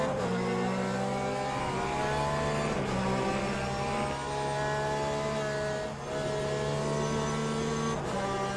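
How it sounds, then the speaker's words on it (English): An LMP2 prototype race car in the Le Mans Ultimate racing game holds a steady, loud engine drone, with quick dips near three, six and eight seconds that sound like gear changes. "LMP2 sounds cool there to the left."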